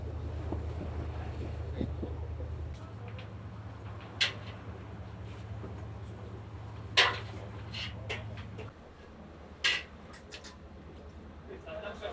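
A sea police boat out on the water at the start of the fishing season produces a steady low engine drone under wind buffeting and splashing waves, with occasional sharp knocks and gusts.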